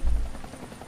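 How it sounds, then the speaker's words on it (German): A helicopter in the video game DeadLight gives a brief, loud low rumble that fades quickly into a softer, steady drone. "Ein Hubschrauber."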